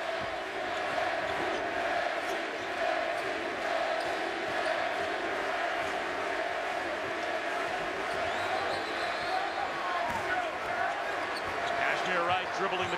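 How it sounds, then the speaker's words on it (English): A basketball arena crowd chants a player's name at a 2012 Cincinnati vs Marquette college game, a steady roar of many voices filling the arena throughout, with bouncing and commentary mixed in. "Crowd chanting Yancy Gates' name."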